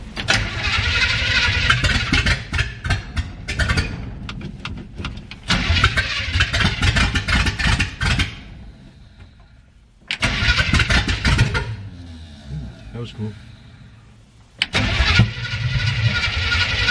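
The newly fitted engine of a 1948 Mercury pickup cranks and catches in several loud, close bursts, running rough between quieter pauses before firing up again.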